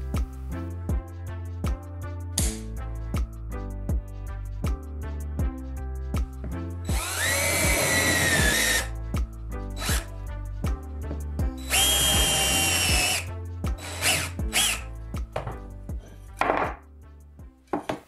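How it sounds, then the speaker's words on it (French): A power drill bores into material, fitted with a zip-tie depth stop, in two loud whirring bursts of about two seconds each, set against a steady rhythmic tapping beat. "Créez un limiteur de profondeur de perçage simple en utilisant un collier de serrage."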